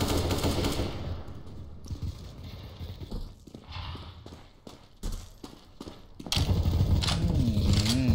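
Machine gun fire in a video game rattles in bursts of rapid shots, loud and close, with quieter gaps between volleys.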